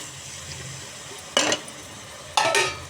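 Chopped tomatoes drop into a pan of partly sautéed onions for a mushroom and double-bean biryani, giving two short bright splashing hisses over a quiet background hum.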